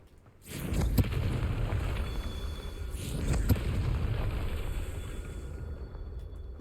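A Confringo fire spell blast in the wizarding game Hogwarts Legacy: a sudden rumbling burst that swells and roars, then a second flare, with a sustained crackling fiery wash and no talk.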